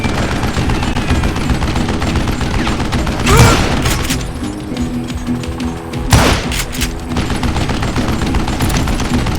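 Gunshots in Call of Juarez: Gunslinger, with a steady stream of rapid shots and clatter and two louder heavy blasts standing out, all played up close and loud.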